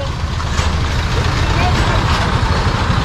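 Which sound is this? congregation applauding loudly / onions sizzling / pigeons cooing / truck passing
truck passing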